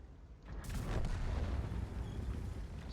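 A heavy tank cannon shot in a tank video game, a deep booming blast that swells and rolls on with a low rumbling tail, faint in the mix.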